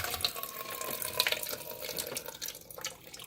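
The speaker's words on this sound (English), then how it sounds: "Just drain any water that may be in it." Leftover water drains from a portable cabin air conditioner into a small cup, a steady close trickle with light splashing and drips throughout.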